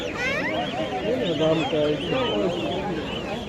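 A flock of ducklings at a livestock market in Fatullah quacking and chattering continuously at close range, with people talking over the birds throughout.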